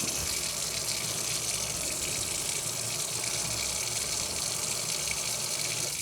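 Hot water from a tap runs steadily and loudly into a freshly unclogged sink, a continuous even gush with no pauses and no voices.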